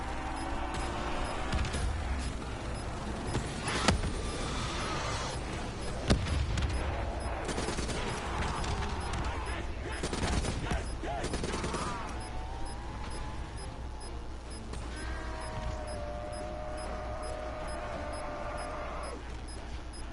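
Sustained machine gun fire in Black Ops 3 Zombies, a dense run of loud rapid automatic bursts with explosions and game effects mixed in, steady throughout.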